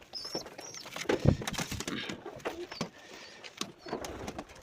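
Local domestic pigeons coo softly in a few low, rounded calls amid light rustling and faint background chirps, close by with no talking.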